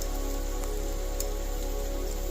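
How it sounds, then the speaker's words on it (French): Steady rain from an approaching thunderstorm patters densely on a surface, a continuous hiss with occasional sharper drops, no voices. "La pluie s'invite."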